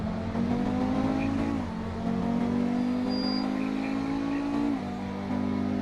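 A two-million-dollar car holds a steady, loud engine note at high speed through lane changes, with the pitch dipping and shifting twice as it moves across lanes.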